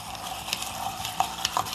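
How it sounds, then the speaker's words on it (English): A whiskey cocktail made with peach Crown Royal and squeezed lemon being stirred, a continuous soft swishing with a few light clinks of ice or a spoon against the glass, close and moderately loud, without speech. "Let's give this a stir."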